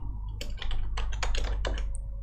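Quick bursts of keystrokes on a computer keyboard while a name is typed into a web design tool, close and fairly loud, with short pauses between clusters and no talking.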